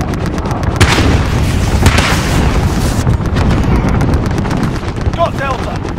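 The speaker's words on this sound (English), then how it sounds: "Be advised, friendly position airstrike inbound." Call of Duty Modern Warfare ground war erupts in a continuous roar of airstrike blasts, rocket explosions and rattling gunfire, loud and dense throughout, with voices talking beneath.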